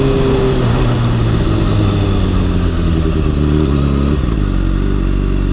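A 2013 Honda CBR600RR sport bike accelerating up close, its engine note loud and rising through the gears with a brief dip as it shifts.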